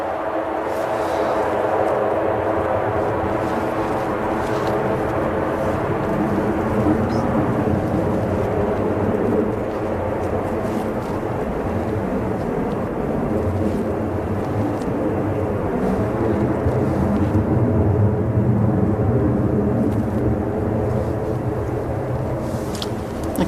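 An Air France airliner arriving on runway 05R at Manchester Airport gives a continuous low, rumbling jet roar that holds steady throughout, broad and heavy at a moderate distance with no voices over it.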